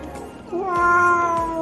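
A rescued stray cat meows once, a drawn-out rising and falling call at close range over a faint background hum.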